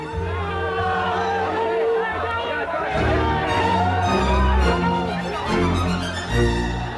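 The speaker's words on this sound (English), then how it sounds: "This was the point when the crowd seemed to go out of control." Large agitated crowd of supporters at Ayodhya, a dense roar of many voices and babble that swells louder midway and stays continuous throughout, with a voice talking over the din.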